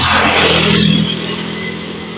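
Motorcycles cross an old bridge in Tagum City, one engine passing close and loud with a brief revving hum that fades away after about a second.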